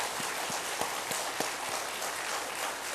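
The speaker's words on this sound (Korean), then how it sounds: "우리 목사님 내려가시는데 한번 축복의 박수 부탁합니다." A church congregation claps together after a service, a steady wash of applause with a few sharper claps standing out, moderately loud and continuous.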